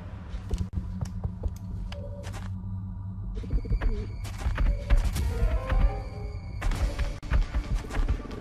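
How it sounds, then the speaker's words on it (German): Heavy Muton alien footsteps in XCOM: Enemy Within, dull thunks repeating irregularly under tonal game music and ambient beeps. "Ich höre schon Mutons."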